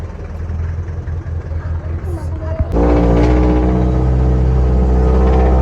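Jeepney engine idling in foggy Tagaytay, a loud, steady low rumble close by that grows fuller and louder halfway through, with people talking over it.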